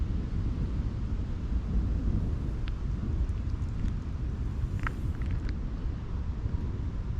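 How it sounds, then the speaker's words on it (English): Thunder from an afternoon thunderstorm with small hail, a deep continuous rumble rolling under wind buffeting the microphone, loud and steady throughout with no voices. "Guys, listen to this thunder. Thunderstorms."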